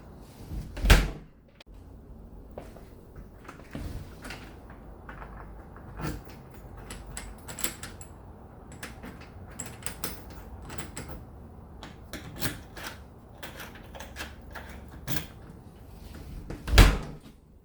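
A key works the lock of a newly installed Kwikset doorknob, a run of close metallic clicks, rattles and latch knocks over quiet room tone, with sharp thuds near the start and end.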